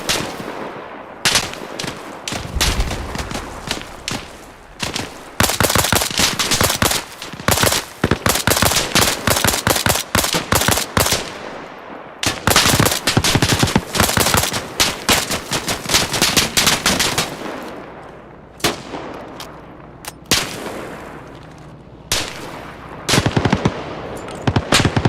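A scoped rifle fires in a video game during close-quarters fighting at a construction site: loud, close rapid shots in long dense runs with brief pauses, thinning to scattered bursts near the end, with no speech.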